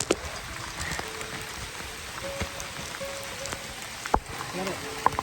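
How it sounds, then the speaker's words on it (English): Rain patters steadily on a surface outdoors along the Appalachian Trail, a soft continuous hiss broken by a few sharper drops and knocks, with no talking. "And here come the rains."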